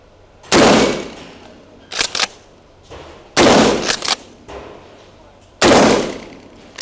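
Three loud, sharp shotgun blasts from a Beretta T1 fired at steel plates, spaced a couple of seconds apart, with softer metallic pings and thuds from the struck plates between the shots.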